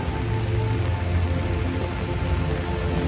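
Steady heavy rain falling in Manhattan during a New Year's Day rainstorm, a constant dense patter on surfaces with no breaks, loud and close.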